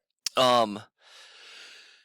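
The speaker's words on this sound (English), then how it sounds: "I always yawn this time of morning" A person's yawn in a classroom setting: a sharp intake followed by a drawn-out voiced, falling yawn sound, then a soft breathy exhale trailing off, close and moderately loud.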